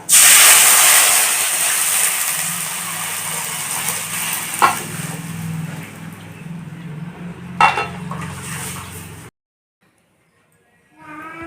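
Ground spice paste for a Tamil ivy-leaf rasam hits hot oil with a loud burst of sizzling hiss that settles into steady frying, with a couple of utensil clinks before a brief silence.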